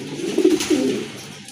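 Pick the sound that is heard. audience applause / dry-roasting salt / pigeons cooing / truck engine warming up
pigeons cooing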